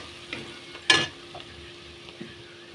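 Spices with ginger fry in a pan while being stirred, giving a soft sizzle under quiet scraping strokes and one sharp louder stir-and-crackle burst near the middle.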